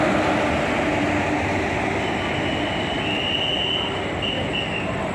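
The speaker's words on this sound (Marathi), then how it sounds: "आता ही आपली ट्रेन सुटणार आहे" Train at a station about to depart, with a loud steady rumble of wagons and the metallic squeal of wheels, continuous and near, with no talk.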